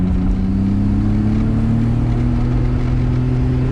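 A 1994 Nissan Skyline GTR engine pulling under throttle, a loud, steady droning hum with a slowly rising pitch, heard close from inside the car with no talk.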